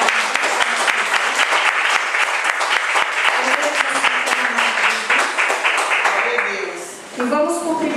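Dense, steady applause fills a Pentecostal church evening service, continuous clapping from a large congregation lasting several seconds, with faint voices and a brief tonal sound near the end.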